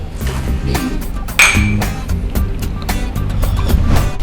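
Glasses clink once in a toast, a bright short ring that stands out over a steady background murmur.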